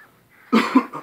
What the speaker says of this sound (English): As soon as I get over coughing.